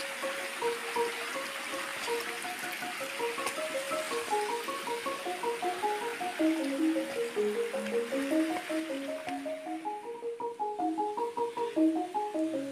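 River water flows steadily as a broad, continuous rush, heard close and fairly loud, with a melodic tune playing over it throughout.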